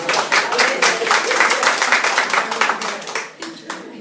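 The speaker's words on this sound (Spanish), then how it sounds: "aplauso al gremio femenino" A Catholic charismatic church congregation bursts into sustained applause, dense steady hand clapping throughout with some cheering voices, tapering slightly near the end.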